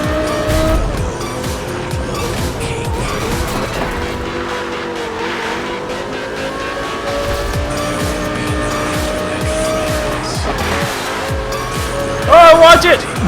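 Race cars roar continuously in a video game, with tire squeal and skidding cutting through the engine drone, loudest in a brief burst near the end, while a player talks over it.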